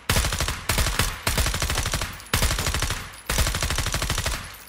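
Automatic gunfire at an aerial target on the FragPunk firing range, video game, loud rapid bursts in several strings separated by short pauses, close and dominant.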